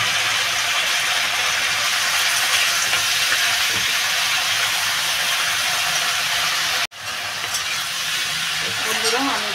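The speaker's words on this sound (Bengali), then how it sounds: "শাক তো একটুখানি হয়ে যাবে, একটু ভাজা করে নেবো" Saag greens frying in a pan, a steady loud sizzle and hiss that runs throughout with a brief break near the end before resuming.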